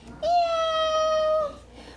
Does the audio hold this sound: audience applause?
no